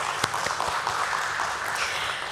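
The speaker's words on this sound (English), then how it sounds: "Let's once again give a round of applause for NMDC Steel Limited." Steady applause from a seated audience at a stock exchange listing ceremony for NMDC Steel Limited, a dense, even wash of clapping at moderate volume with no talk over it.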